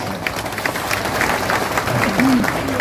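Brief applause from a crowd at an Indonesian religious gathering with Gus Miftah, greeting Hercules, a mix of scattered claps and murmuring voices over about three seconds.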